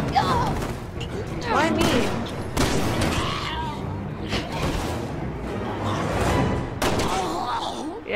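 Gunfire in the video game Resident Evil 6, a burst of sharp shots and thuds mixed with game sounds, with people talking over and between the shots.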